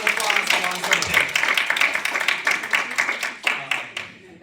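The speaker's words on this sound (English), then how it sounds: "Round of applause for Long Story Day." An audience applauds after a presentation on rural mental health, steady clapping from many hands that holds level and then tapers off, with some voices mixed in.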